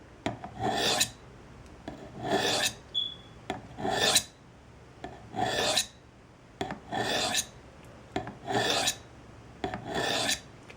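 A knife blade is stroked across the unglazed bottom of a ceramic coffee mug in about ten evenly spaced, close, bright scraping passes, each a short rasp followed by a brief pause.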